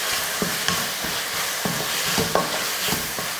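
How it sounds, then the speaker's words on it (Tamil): Ground paste being stirred into mushrooms frying in a pan, with a steady sizzle and irregular scraping stir strokes close by, no talking. "இந்த பேஸ்ட்டை போட்டு கலந்துடலாம்."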